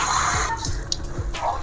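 Water poured into a clay pot while making village-style Odia dalma, a steady close splashing and gurgling stream lasting under two seconds with no talking.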